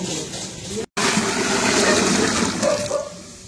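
Water gushes loudly into a container, a strong steady pour that briefly cuts out and then resumes at full force.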